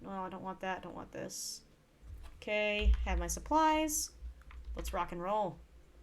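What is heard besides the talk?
No everyday noise stands out behind the speech.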